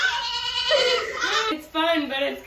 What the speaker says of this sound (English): We literally have 54 sheep and goats on bottles.